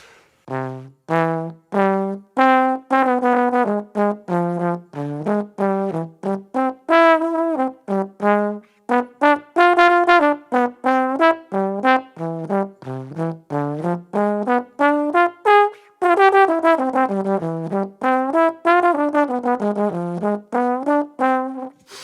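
A trombone plays a steady series of separate notes in a diminished arpeggio, climbing and falling in slow, even steps, alone and close.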